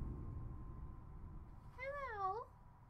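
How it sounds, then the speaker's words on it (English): A cat gives a single rising-and-falling meow during a lightning storm, clear and fairly close over a low background rumble, with no talk during the call. "Hi, kitty!"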